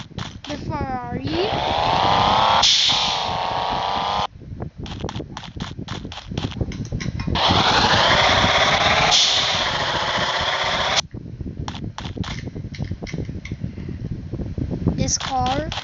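A Ferrari engine in a video game starts up and revs in two long sustained high-pitched bursts, loud and close, with choppy sputtering stretches between them.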